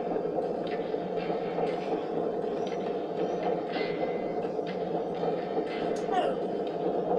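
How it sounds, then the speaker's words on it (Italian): A runaway train rumbles along in the video game Watch Dogs, a steady, dense rolling roar with faint rattling clatter throughout and a brief screech near the end. "Treno impazzito!"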